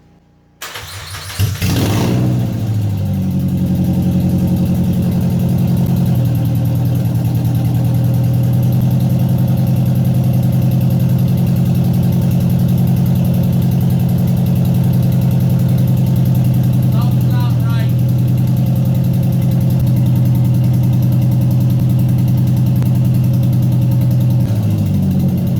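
A Nissan Sentra Spec V with a freshly swapped JDM engine cranks briefly and catches, then settles into a steady loud idle that runs for over twenty seconds, with a faint roughness hinting at a possible misfire.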